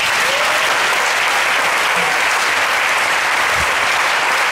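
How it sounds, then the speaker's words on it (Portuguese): A church congregation bursts into loud, continuous applause, dense clapping that fills the hall throughout with faint voices beneath. "Quem crê nisso, tem uma salva de palmas"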